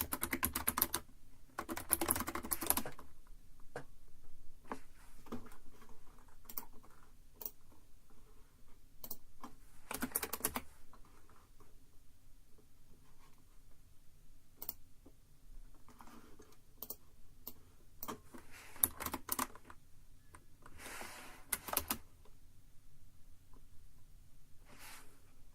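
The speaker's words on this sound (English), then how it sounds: "you would get to hear the more typing sounds" Steady close-up typing on a computer keyboard during quiet data entry, with rapid bursts of clacking keys separated by single taps and brief pauses, and no talking.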